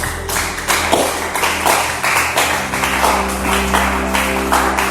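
A church congregation clapping together in a dense, rhythmic wash of applause with voices blended in, loud and filling the room.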